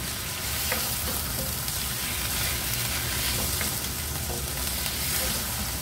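Chicken sotanghon noodles sauté with soy sauce in a pan. Steady loud sizzling runs throughout, broken by a few faint scrapes from stirring, with no talking.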